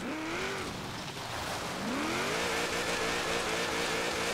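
A 2014 HSV Maloo ute's engine revs and drones in Forza Horizon 3 on a wet, muddy track, pitch dipping then climbing steadily as it accelerates, close and continuous.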